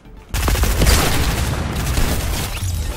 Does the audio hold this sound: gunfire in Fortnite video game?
yes